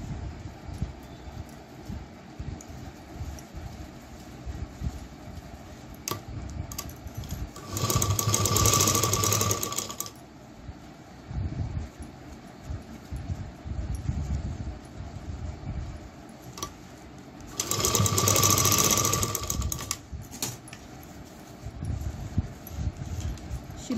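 Sewing machine stitching a frock shoulder seam in two loud, steady whirring bursts of about two seconds each, separated by quieter handling noise with no talking.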